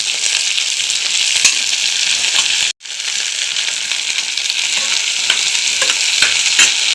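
Okra sautéing and being stirred in a hot pan for a gravy, a steady loud sizzle and frying hiss with scraping stir strokes, one brief pause near the middle, no talking.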